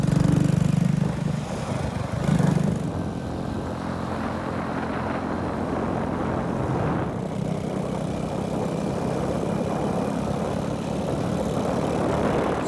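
A motorcycle engine drones steadily while riding on a country loop road in Laos, with constant wind rush over the whole stretch and a few louder bumps near the start, and no talking.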